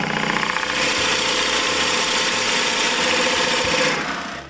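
A power drill boring a 1.5-inch hole into a wooden snowman hat gives a steady, loud motor whine with rattling vibration for about four seconds, then tapers off.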